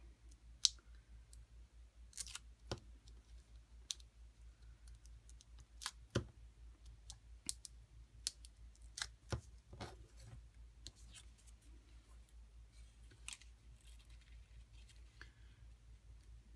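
Card paper being trimmed with scissors at a crafting table, a scattered series of quiet, sharp snips and clicks spread unevenly over a low steady hum.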